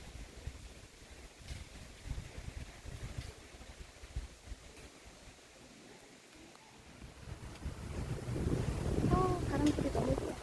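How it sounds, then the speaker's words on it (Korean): Wind blows through the outdoors along a mountain trail toward a waterfall at Sogeumgang after recent rain, a soft steady rushing that swells louder toward the end, with a faint voice murmuring underneath. "바람 소리 너무 좋다."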